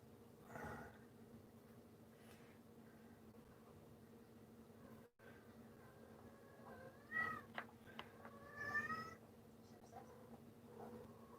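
A cat meows several times at moderate distance on a farm, short rising and falling calls over a steady low background hum, with no talk.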